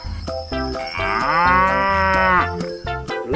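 A buffalo calf in an animal rescue simulation game moos in one long, loud, drawn-out call with rising and falling pitch, framed by shorter game tones and clean, synthetic-sounding backing.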